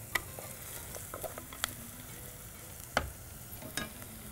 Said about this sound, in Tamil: தக்காளி பழத்தை பிழிஞ்ச மாதிரி போட்டுக்கோங்க. போட்டு வதக்கிறோம்.